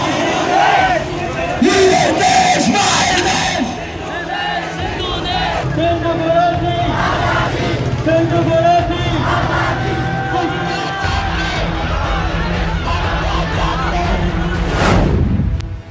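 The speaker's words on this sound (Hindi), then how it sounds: "पाकिस्तान में इमरान के खिलाफ नारेबाजी" A large crowd in Pakistan shouts slogans against Imran Khan, a loud continuous mass of raised voices with rhythmic call-and-response surges that keep up for the whole stretch.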